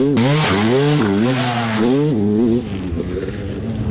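A Honda CR 250 two-stroke dirt bike ridden flat out in 4th gear, its engine screaming loud and close with a wavering, revving pitch that rises and dips before the throttle backs off into a lower drone.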